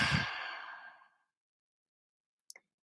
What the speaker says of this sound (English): So again, just take a deep breath.